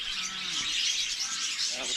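A bird calls outdoors, with short chirps rising faintly through a steady, hissy background of wind and rustling.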